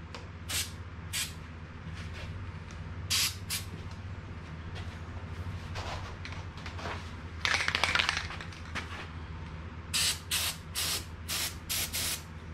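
White lithium grease is sprayed from an aerosol can onto the moving metal parts of an Ulterra trolling motor. Short, sharp hissing bursts repeat irregularly, with a longer spray near the middle, over a low steady hum.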